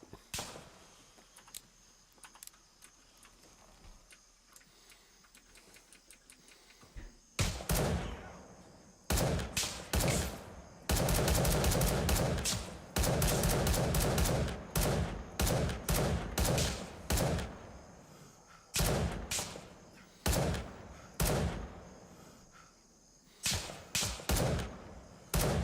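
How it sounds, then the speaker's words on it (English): Gunfire in Gray Zone Warfare: a quiet stretch, then loud, close bursts of shots, a sustained heavy volley and more scattered shots and short bursts. "Wow, that took a lot of bullets."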